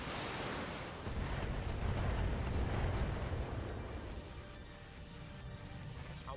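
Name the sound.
missiles being fired in video game BattleTech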